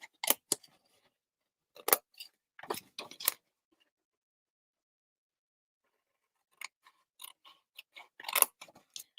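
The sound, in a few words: scissors cutting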